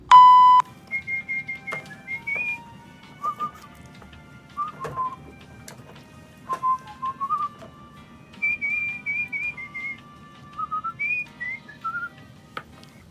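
A man whistles a bright melodic tune alone, in short phrases with brief pauses, clear and close with no talking.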